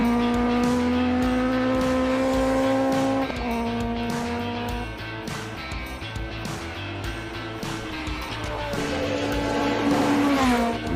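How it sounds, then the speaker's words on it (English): Shelby Cobra Daytona Coupe V8 race car at a hillclimb, its engine howling loud and close through sustained high revs, with a few gear changes as it powers up the course. "Cobra, huge power, V8, Daytona Coupe"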